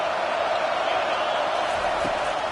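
Football stadium crowd roaring loudly, a continuous, even wash of cheering voices that holds steady with no breaks.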